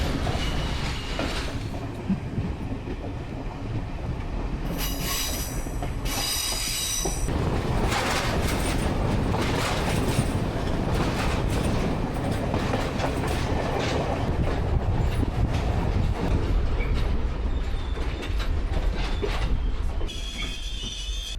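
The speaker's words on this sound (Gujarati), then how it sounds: "તો મિત્રો ફોર્ટ રેલવે સ્ટેશનથી આપણે જવાના છીએ બાંબલમપટ્ટી." A passenger train in Sri Lanka runs from Fort railway station toward Bambalapitiya, giving a loud, continuous rumble with rattling carriages, clattering wheels and piercing wheel squeals throughout.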